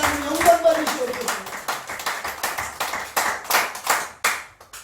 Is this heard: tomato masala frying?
no